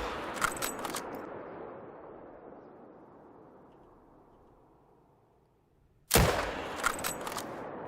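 Two loud rifle shots in the hunting game theHunter: Call of the Wild, the first trailing off in a long fading echo across open terrain before the second sharp crack.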